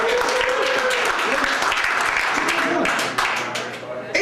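A comedy club audience bursts into clapping in answer to a comic's question, dense, lively applause with some cheering that holds strong, then thins and tapers toward the end.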